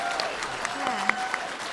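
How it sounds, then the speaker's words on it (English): Audience at a convention panel applauds, a steady wash of clapping with scattered whoops running under a speaker's voice throughout. "Can we get a round of applause for Andrea Libman"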